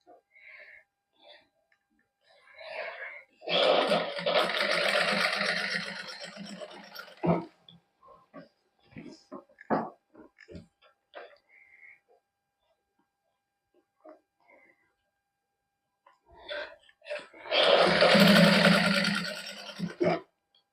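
A sewing machine stitches along the neckline of a plain-fabric suit with multicoloured thread, running in two sustained whirring bursts separated by quieter stretches of talk and small handling sounds.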